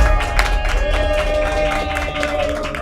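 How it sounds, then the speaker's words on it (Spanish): Studio audience applause with scattered clapping and crowd noise on a Spanish-language television dating show, steady and fairly loud under a bed of music for the whole stretch. "Un aplauso, que venga."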